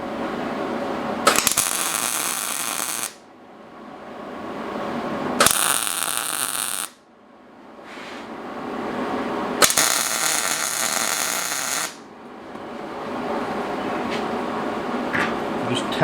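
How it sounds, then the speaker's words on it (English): Steel bars being tack welded, with three loud bursts of crackling, broadband welding arc noise lasting a few seconds each, separated by quieter gaps of low hum. "The first weld on joining these bars together."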